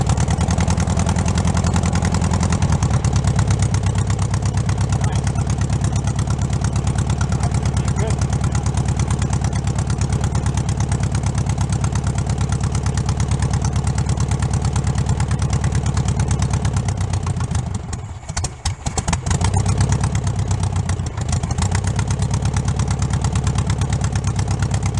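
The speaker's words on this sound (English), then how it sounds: "Let's see if it'll idle for us." An old Volkswagen bus engine, rotten after forty years in a junkyard and newly fitted with tune-up parts, idles steadily with a low, continuous drone, dipping and stumbling briefly near the end before settling back.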